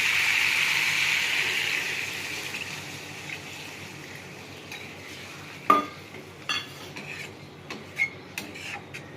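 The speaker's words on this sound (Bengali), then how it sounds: "এবার আমি জল দিয়ে দেবো।" Water poured into a pan of stingray fish and potato curry makes a hissing, bubbling rush that fades. A few clinks of a spoon or utensil against the pan follow, all close by with no voices.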